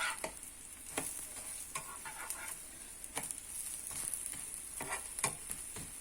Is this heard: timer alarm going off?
no